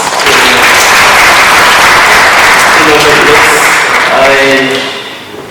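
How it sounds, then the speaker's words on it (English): Sustained audience applause at a book launch panel discussion, dense and steady for about five seconds before tapering off, with faint voices mixed in near the end. "Another round of applause"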